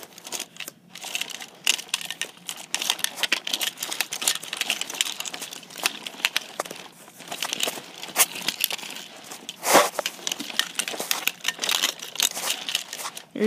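Continuous crinkly, papery rustling and shuffling with scattered sharp clicks, close up and fairly loud, no voices.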